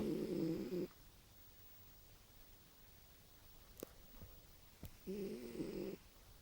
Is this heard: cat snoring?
yes